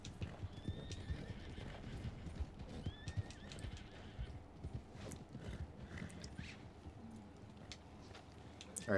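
Horse whinnies and clip-clopping hooves in the Red Dead Online video game, two rising neighs early on over steady hoof beats and ambient outdoor game sound throughout.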